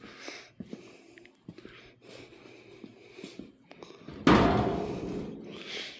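The rear suicide doors of a 1972 Chevrolet C50 crew cab conversion are worked open, giving scattered metallic clicks and thumps and then a louder heavy clunk with a rattle that fades, close by, with faint voice sounds in between.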